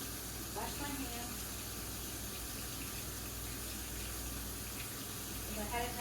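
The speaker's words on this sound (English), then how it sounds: "wash my hands." A kitchen tap runs steadily while hands are washed in the stream, a continuous soft hiss of flowing water, fairly quiet, with faint clinks near the start and end.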